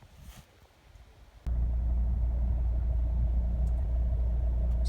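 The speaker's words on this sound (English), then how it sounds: "engine's running through this section so you can see the dashboard illuminated" A Volvo XC90 2.4 D5 diesel engine, heard from inside the car, starts up after a quiet moment and settles into a steady, loud low rumble that continues to the end.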